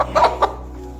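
A few short, close clucks from a chicken sick with fowl pox, two or three quick bursts within a second.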